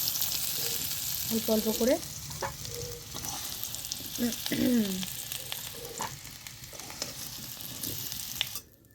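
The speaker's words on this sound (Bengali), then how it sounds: "আলুগুলো ভাজা ভাজা হয়ে গেছে, এবার আলুগুলো আমি তুলছি" Potatoes fry in oil with a steady low sizzle as pieces are stirred and lifted from the pan, while someone speaks briefly over the cooking.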